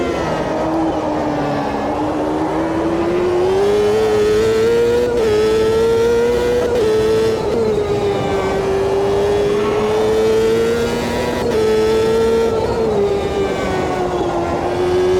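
Champ Car open-wheel race cars in Automobilista 2, with one engine holding a loud, continuous whine that rises and falls through gear changes, brief shift breaks cutting in.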